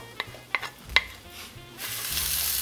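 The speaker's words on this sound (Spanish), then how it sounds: "vamos a agregar nuestra cebolla cortadita en pedacitos, trocitos muy chiquitos, y nuestro tomate" Chopped onion and tomato land in hot oil in a pan. A few light utensil clinks come first, then a sudden, steady sizzle rises and carries on close by.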